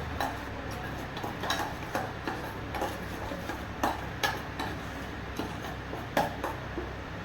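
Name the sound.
stirring a mixture after adding turmeric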